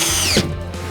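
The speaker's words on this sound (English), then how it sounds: "we, of course, use the coarse thread screws to fasten the board" A power drill spins up and drives a coarse-thread screw into wall board, a loud, close, whining motor with a pitch drop as it bites in, followed by a steady lower hum.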